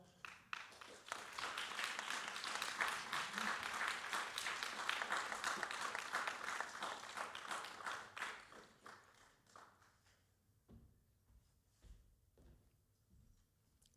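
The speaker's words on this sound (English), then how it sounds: "feel free to applaud for your candidate as I bring them up." An audience at a mayoral debate applauds a candidate, a fairly distant, steady patter of clapping that builds and holds for several seconds, then thins to a few scattered claps before fading.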